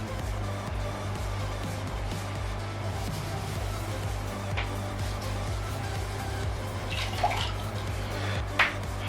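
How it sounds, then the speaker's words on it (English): Water pours steadily into a 4ft open-top river fish tank as a constant close rush over a low hum, broken by a couple of brief clinks near the end. "Now it's time to fill the tank up."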